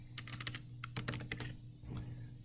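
Computer keyboard typing while working in Excel: a quick burst of close, crisp key clicks, then a short pause and a few more taps, quiet overall.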